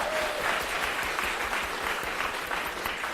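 A university class gives its teaching assistants a round of applause, dense and continuous clapping from many hands filling the room throughout.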